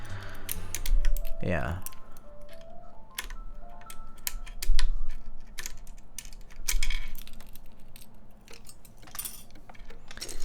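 Fingertips tap out quick, uneven bursts of clicks on mechanical keyboard keycaps, close and fairly crisp, while a person talks and a brief voice interjects over the typing.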